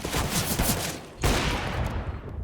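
Rapid gunfire from a match of the video game CS:GO, a dense burst of close shots that breaks briefly and then resumes, loud with no voices over it.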